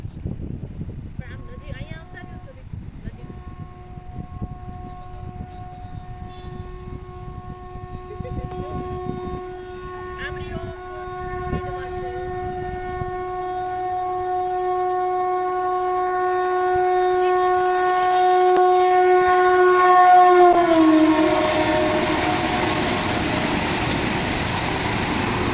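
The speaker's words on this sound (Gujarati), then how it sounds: "તો ચાલો ટ્રેન અહીંયા આવી ગઈ છે." A Vande Bharat train arriving at a station sounds its horn in one long, steady, siren-like blast that holds for about twenty seconds. The rumble of the approaching train builds beneath it and continues after the horn stops, with faint voices nearby.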